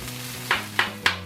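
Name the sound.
fried rice frying in pan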